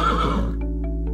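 A horse gives a loud, close whinny, a single falling neigh that trails into quieter snorts and faint hoof sounds, with no talk.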